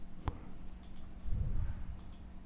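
A computer mouse gives a couple of sharp, close clicks, one early and two more spaced pairs later, over a quiet room hum with a low rumble in the middle.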